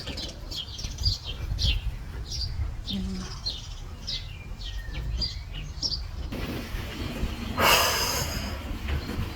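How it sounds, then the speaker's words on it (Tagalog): Birds chirp and tweet in a city garden in Germany, short high calls repeating over a steady outdoor rumble, with a person speaking briefly and a louder burst of noise near the end. "kung maririnig yung may mga huni ng ibon"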